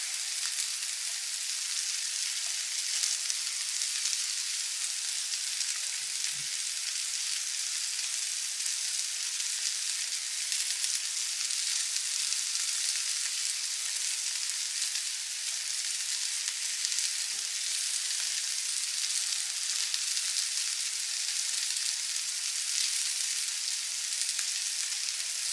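Bacon sizzles and fries steadily in a pot of Zuppa Toscana, a continuous bright hiss with no break, broken only by one or two soft stirring knocks.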